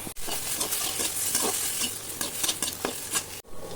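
Onions sizzle and crackle in a hot pan while a utensil stirs them with scraping bursts; close and fairly loud, no talking.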